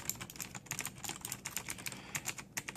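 Close typing on a Razer BlackWidow 2014 mechanical keyboard with Kailh green switches, a fast irregular run of sharp clicky keystrokes, fairly quiet and with no voice over them.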